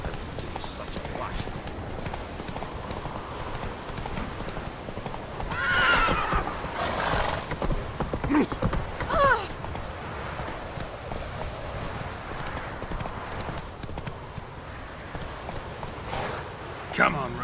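Roach the horse gallops in The Witcher 3: Wild Hunt, rapid hoofbeats under a noisy rush, with a loud neigh partway through and a voice speaking briefly.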